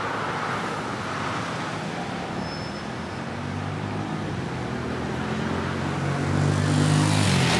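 Cars passing on a road in Randburg, South Africa, a continuous traffic hum that swells louder near the end as a vehicle draws close.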